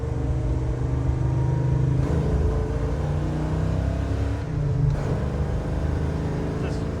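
A 1967 Chevelle with a big block V8 and a 12-volt electrical system idles steadily, a close, smooth, even engine rumble with a slight rise in revs partway through.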